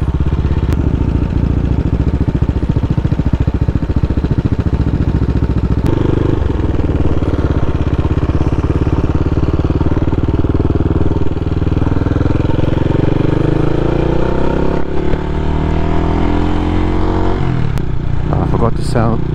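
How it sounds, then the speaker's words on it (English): A CCM Flat Tracker Classic motorcycle engine running close and loud, heard through a helmet camera, a steady idle that rises and falls as it revs, with wind and rumble throughout. "how much of the engine sound you're gonna get from here through the helmet cam"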